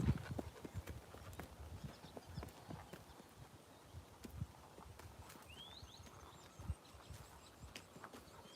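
Hooves of an old mare being ridden clip-clop at a steady walking pace, close and moderately loud outdoors, with faint birdsong in the background.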